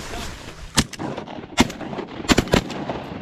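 Shotguns fire during a duck hunt over decoys: a single sharp blast, a second shot, then a quick cluster of three more, loud and close against a quiet outdoor background.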